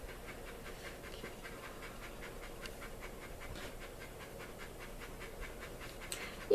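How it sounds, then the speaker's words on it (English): A dog pants in a quiet room, a faint, steady rhythm of quick breaths that continues throughout without any voices. "I'm listening to a panting dog"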